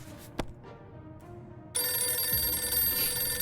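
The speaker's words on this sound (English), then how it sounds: "Ooh, telephone ringing." A telephone rings in the video game 60 Seconds Reatomized, a sharp electronic ring cutting in midway and holding steady after a short burst of game sound, clear and close.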